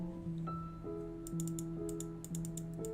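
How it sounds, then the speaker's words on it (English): Keys clatter in short quick bursts of typing on a computer keyboard, fairly quiet, over steady tonal background music. "typing intensifies"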